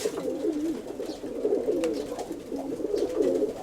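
A pigeon coos near at hand, giving repeated rolling, throaty phrases in an even rhythm over quiet surroundings.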